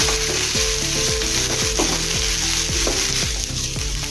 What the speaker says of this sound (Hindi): थोड़ा सा इसमें तेल डालेंगे। इसे भून लेंगे, इसको भी कलर आने तक।